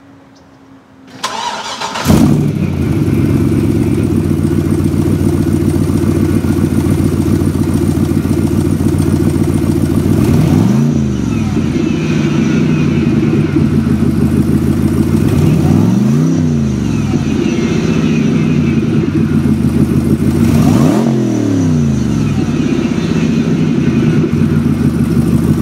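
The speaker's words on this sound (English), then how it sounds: "we've got the LSA, which is the Cadillac CTSV supercharged engine" A supercharged LSA V8 from the Cadillac CTS-V, fitted in a remade Corvette Grand Sport, cranks and fires into a loud steady idle, then revs up and back down in three sweeping blips, close and alone.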